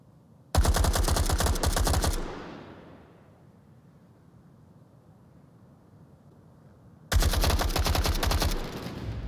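Two bursts of rapid rifle gunfire from an AK-5C in the VR shooter Onward, loud and close, with a quiet gap between the volleys.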